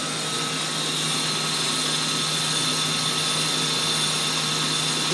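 An industrial wire chopper machine runs with a continuous droning whir and steady tonal hum, constant in level from start to finish, no speech.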